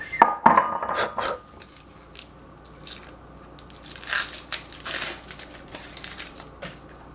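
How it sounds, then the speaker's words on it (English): A knife chopping red and white onions into small pieces on a board, with irregular crisp cuts and clatters, louder bursts at the start and again in the second half. "I have red onion, purple onion, red onion, and white onion. So I will use these two, cut into small pieces."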